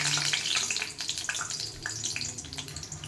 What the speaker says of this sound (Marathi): तेल तापलं मस्त भजी सोडून घ्यायची